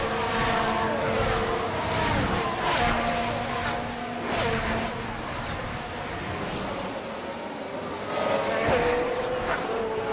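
Race cars roaring around the Bahrain circuit in the F1 Manager 24 video game, a steady engine drone with cars whooshing past under constant crowd-like wash, moderately loud and continuous.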